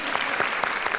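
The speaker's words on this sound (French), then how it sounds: "On peut applaudir Boubou" Brief scattered applause from a small audience for Boubou the dog during a circus-style performance, a short burst of claps with audible individual hand strikes.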